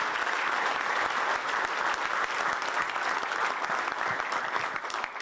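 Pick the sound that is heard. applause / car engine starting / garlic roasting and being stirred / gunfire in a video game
applause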